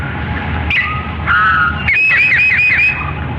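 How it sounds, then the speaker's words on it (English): A towhee's song slowed down, heard as a few drawn-out whistled tones followed by a rapid series of repeated trilled notes, loud and clear against a low background hum. "the Tohee sounds like this."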